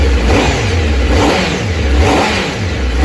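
A Honda CBR1000RR SP superbike with a 999.9cc water-cooled four-stroke DOHC inline-four engine revs loudly and steadily, its engine note rising and falling in rhythmic pulses with no voices.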